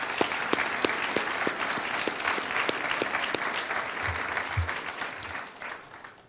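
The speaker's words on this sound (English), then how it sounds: "I want to give everybody a round of applause" An audience at a future leaders academy event applauds steadily, a dense wash of clapping that holds loud and even for several seconds before easing off, with a few individual sharp claps standing out.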